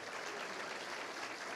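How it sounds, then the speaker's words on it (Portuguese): Church congregation applauding during worship, a dense, steady wash of many hands clapping at a moderate distance with no talk. "Senhor, nós aplaudimos o Senhor."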